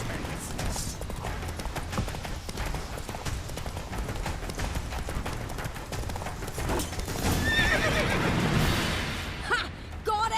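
A horse gallops with rapid clip-clop hooves and lets out a neigh in The Witcher 3: Wild Hunt, under continuous game music and combat noise, with a voice speaking briefly.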